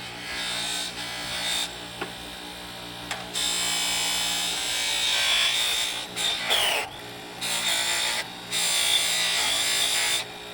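A carved wooden crucifix is buffed with polishing compound on a powered polisher, giving a steady high whirring rub that runs loud and close, with several brief pauses and restarts.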